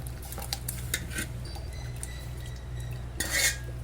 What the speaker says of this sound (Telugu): ఎసరు వచ్చినాక ఈ గట్కను ఇందుకు వేయాలి